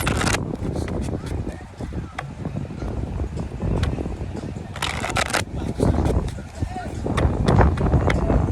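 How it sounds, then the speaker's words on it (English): Tarot cards being shuffled with soft riffling and tapping, heard outdoors against wind noise and faint background sounds. "I'm just gonna shuffle and then I'll do the reading"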